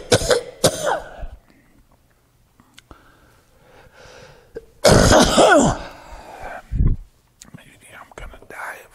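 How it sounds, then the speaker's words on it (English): Several close coughs and throat-clearing sounds from an allergy cough break through quiet breathing and whispered speech, with one harsh coughing fit in the middle. "Maybe I'm gonna die of a cough."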